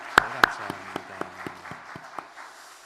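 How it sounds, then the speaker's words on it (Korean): Applause welcoming guests at a Wednesday worship service in a military university church, heard as a few sharp claps that thin into sparse, scattered clapping and fade out. "지금 또 먼저 한번 큰 박수로 한번 환영하면 좋겠습니다."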